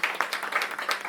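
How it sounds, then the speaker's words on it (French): Audience applause at an entrepreneurship conference, a steady patter of many hands clapping at moderate loudness, continuous across the whole brief moment with no voices standing out. "j'aimerais vraiment que vous applaudissez pour ce monsieur"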